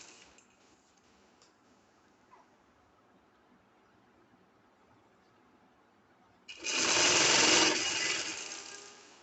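A sewing machine stitches a fancy shirt, quiet light ticking for several seconds, then a loud burst of fast whirring stitching near the end.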